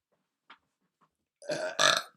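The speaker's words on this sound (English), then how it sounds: "Another burp." After a couple of faint small clicks, a loud, close burp breaks out in two quick bursts, with no speech around it.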